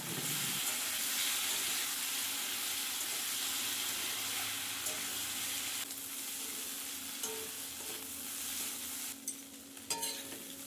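Prawns fry in hot oil over a high flame, giving a steady bright sizzle and hiss with occasional stirring clicks near the end, close and continuous.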